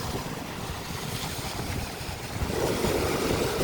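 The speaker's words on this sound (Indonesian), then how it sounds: "Tapi deburan ombaknya ini" Ocean waves rolling onto Rambak Beach in Bangka, a steady broadband wash with wind buffeting the microphone, swelling slightly louder near the end, no talking.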